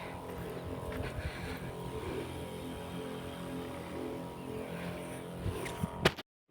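Motorized spray pump on a farm field running during pesticide spraying, a low continuous engine hum at moderate distance that cuts off abruptly near the end.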